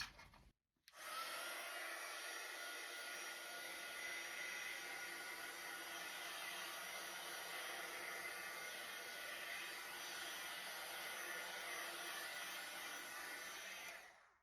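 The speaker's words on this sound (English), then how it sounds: "I'll take one more swipe just with my embossing gun" An embossing heat gun blows steadily over a resin surface on a 24-inch round botanical piece, starting with a click and rising into a constant close whooshing hiss that runs unbroken to the end.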